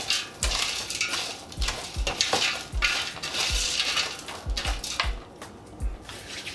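Classic stuffing mix goes into a pot for turkey dressing with a series of dull thumps and clinks, about ten irregular knocks of utensil against cookware over a soft rustling bed, close and moderately loud.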